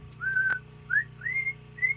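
A person whistles a few short, clear notes alone, with small rising and sliding pitches and gaps between them, fairly close by in a quiet room.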